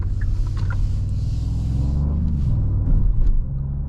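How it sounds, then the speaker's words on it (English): A Genesis GV80 Coupe's V6 engine, with artificially enhanced cabin sound, revs in a deep, steady low rumble. It swells slightly near the end and plays alone without any talk. "Very low grunting sound from this engine."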